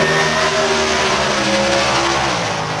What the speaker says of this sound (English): Dan Stevenson's car spoke the tires early, and then he got back on the throttle.